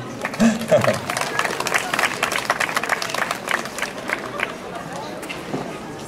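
An audience at a regional beauty pageant claps for a contestant, with scattered distinct hand claps rising over a murmuring crowd and some talk, the applause thinning out toward the end.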